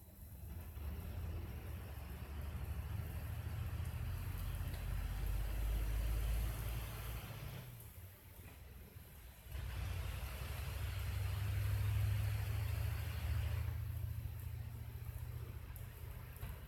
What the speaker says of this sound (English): that was a truck driving by on the road